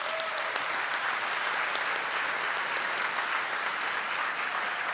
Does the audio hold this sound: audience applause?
yes